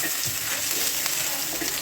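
Onion, carrot and chillies sautéing in a pan for palak dal khichdi give a steady, close broadband sizzle that runs unbroken with no voices.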